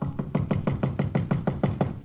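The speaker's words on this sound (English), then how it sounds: "and I hear a knocking on my door." An old-time radio sound effect of someone knocking on a hotel room door, about a dozen quick, even raps in a steady rhythm, close and clear with no voices.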